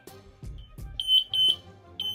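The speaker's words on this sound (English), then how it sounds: "there goes my timer." A kitchen timer beeps repeatedly while cornmeal coucou is stirred on the stove, sharp high-pitched chirps arriving in quick pairs over low scraping and knocking of the spoon in the pot.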